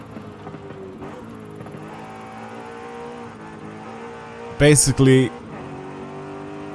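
A steady droning Alfa Romeo 8C engine in Forza Horizon 5 hums throughout at an even pitch, with a brief loud burst of talk partway through.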